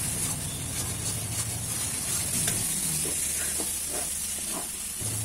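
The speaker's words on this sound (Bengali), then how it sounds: "এবার মশলাটা ভালো করে কষিয়ে নেব।" Spice masala with turmeric and salt frying and being stirred in a pan for a chicken curry, a steady hiss of sizzling oil with soft scraping strokes throughout, close and even.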